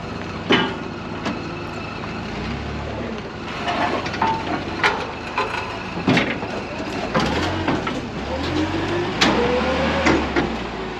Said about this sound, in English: Oh, the brake was on. It's his first time driving a forklift.